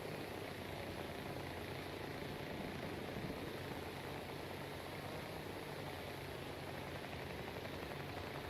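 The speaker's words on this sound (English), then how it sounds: "There's a heli in here already." A helicopter in the Battlefield 2042 video game, a steady, dense rotor and engine roar holding evenly throughout at moderate distance with no talk.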